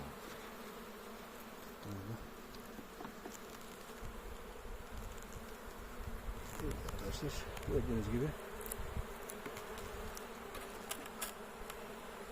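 Honeybees buzz in a dense, steady drone around an opened hive whose back lid was left open, on a January hive check in Istanbul, with someone talking close by over the swarm.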